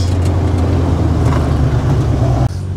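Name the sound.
Chevrolet C10 pickup V8 engine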